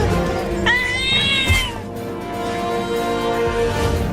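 A cartoon cat gives one drawn-out, wavering meow up close, loud and clear over a faint background hum, followed by a quieter trailing tone.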